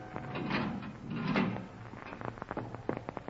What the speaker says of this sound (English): The steel door was being opened.